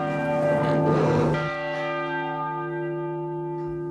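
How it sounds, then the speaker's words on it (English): Church bells in the bell tower of St. Mary's Cathedral ring out loud and close, a heavy struck tone whose long resonant hum lingers and slowly decays on its own. "The bells have sounded."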